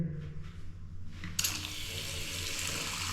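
A bathroom tap in an apartment in Angeles City, Philippines, is turned on, and water gushes out under strong pressure in a loud, steady stream after a few quiet clicks and knocks.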